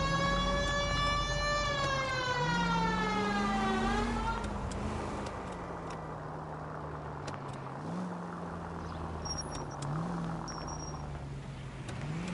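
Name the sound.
police sirens in the video game L.A. Noire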